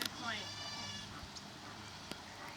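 Goats bleat faintly at a distance during herding by a working dog, with a wavering call near the start and soft ambient outdoor noise.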